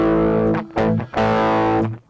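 Electric guitar run through a Fender Dual Pugilist distortion pedal on its overdrive A side, giving crunchy, moderately driven chords. Loud and close, three strummed chords ring out in turn with brief gaps, with no talking.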